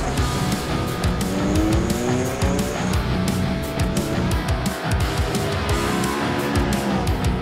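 Alpine Challenge race cars roar around the Slovakia Ring circuit in a dense, continuous blur of revving engines, with a brief tire squeal among the close, loud pack.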